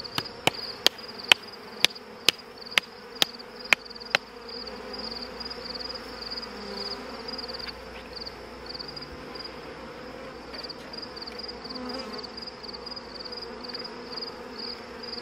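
Honeybees buzz around a hive frame as it is lifted out, a constant drone throughout, with a quick series of about nine sharp knocks near the start before the buzzing carries on alone.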